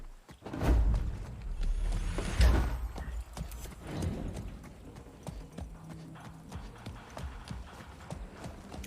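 A horse in Far Cry 6 trots in place, its hooves clip-clopping in a quick, repeated rhythm, loudest at first and then settling into steadier, softer steps.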